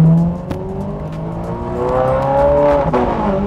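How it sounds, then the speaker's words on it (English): A Ferrari F430 Scuderia engine revs up and down, with a tonal whine rising in pitch, heard close from inside the stripped, bare cabin. "Can you hear the snap of the car?"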